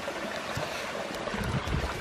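Rushing water of Pine Falls in Nebraska, heard through brush as a steady, moderate wash with a few gurgling splashes, no voices.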